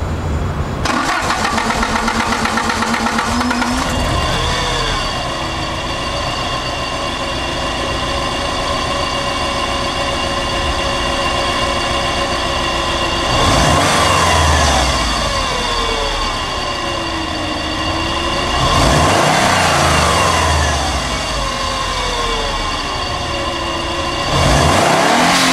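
A 1990s Subaru Impreza sedan engine cranks and fires up, settles into a steady idle, then is revved three times, each rise and fall clearly separated, with no talking.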